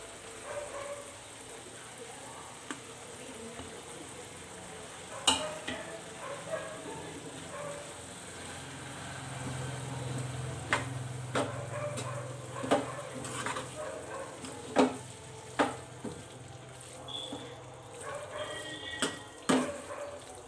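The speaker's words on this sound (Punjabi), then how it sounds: "ਹੁਣ ਵਿੱਚ ਪਨੀਰ ਮਿਕਸ ਕਰ ਦਿੰਨੇ ਹਾਂ" Paneer bhurji being stirred in a pan with masala and milk, giving a low steady sizzle with scattered sharp scrapes and clinks of a spoon against the pan, no voices.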